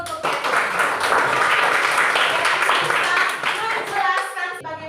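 A class of elementary school children claps hands together in a burst of quick, dense clapping that tapers off near the end, followed by a voice speaking.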